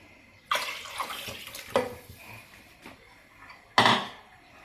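Water pours into a pressure cooker holding browned mutton for nihari, giving a couple of splashy bursts and a trickle between them, close by with no one talking.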